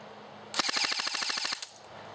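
An AEG SR-15 airsoft rifle on full auto with a 9.6 volt battery fires one quick burst of about a dozen sharp, evenly spaced shots lasting about a second, loud against a quiet room.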